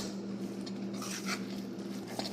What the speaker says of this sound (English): you're just going to mix this with a spoon until everything is combined and incorporated really well